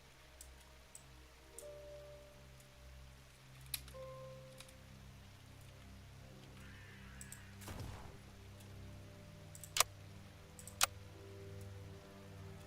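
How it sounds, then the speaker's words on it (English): Sharp isolated clicks from the video game Iratus tick out irregularly over a soft, steady rain ambience. A few of them stand out loud and crisp against the quiet background. "See, the loud clicking, though, is tied to volume."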